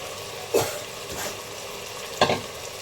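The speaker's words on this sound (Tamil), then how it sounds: "சிக்கன் நல்லா வதங்கிடுச்சு." Chicken sautés in a pan for a gravy, giving a steady low sizzle broken by two scraping stirs of a spoon against the pan, with no talking.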